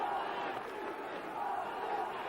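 A football stadium crowd cheering after a missed 44-yard field goal at the 1989 Budweiser Bowl, a broad, steady roar of many voices from a distance.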